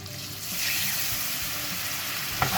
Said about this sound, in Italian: lasciamo a fiamma alta e sfumiamo con il succo di limone